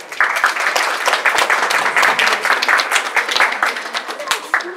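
Crowd applause for a rider at a show jumping competition, steady dense clapping throughout, fairly loud, with voices mixed in.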